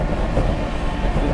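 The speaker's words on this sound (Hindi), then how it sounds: "130 की रफ्तार में विद्यासागर रेलवे स्टेशन को तोड़ते हुए" A Duronto Express train runs at 130 km/h through Vidyasagar station. A loud, close, steady rumble of wheels and carriages rushes past with a dense rattling roar and no pause.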